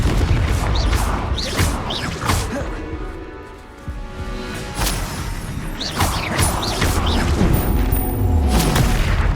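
Confringo fire-spell blasts in Hogwarts Legacy combat, a series of loud crashing booms and whooshes in quick succession amid busy fight effects.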